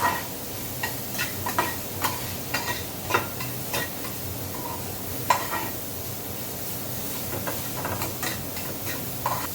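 Onion, tomato and fresh grated coconut being stirred in a hot pan, a steady sizzle with soft scraping strokes of the spoon repeating throughout.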